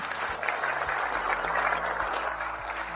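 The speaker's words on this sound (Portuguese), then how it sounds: "Agora vamos aplaudir, sim." An audience applauds a psychologist being introduced at an evening lecture on autism, continuous dense clapping filling the whole stretch at a moderate, even level.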